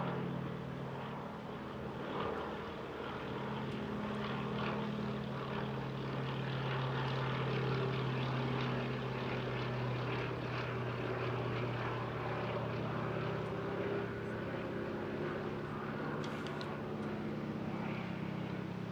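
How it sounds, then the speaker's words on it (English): A propeller aircraft flies at the Bournemouth Air Festival, flown for Navy Wings, its droning engine steady and fairly distant, slowly swelling and fading across the sky with no talk. "Andrew Davis and Mark Jones, flying on behalf of Navy Wings"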